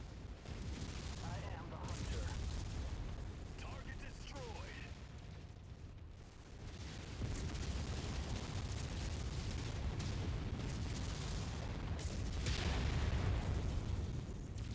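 Mech weapons in MechWarrior 5: Mercenaries fire in a constant, muffled rumbling barrage of overlapping booms and blasts, kept fairly quiet beneath a voice talking over it.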